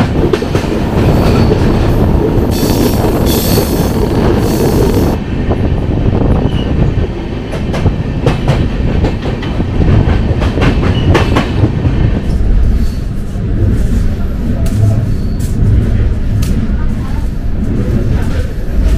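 A train passes through a series of hillside tunnels with a loud, continuous rumble and clatter of wheels on rails. The sound shifts as it moves between open track and tunnel.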